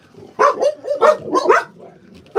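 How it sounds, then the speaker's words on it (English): Several dogs bark in quick, overlapping bursts, loud and close, with a short pause before another bark at the end. "jeez, my dogs are going nuts."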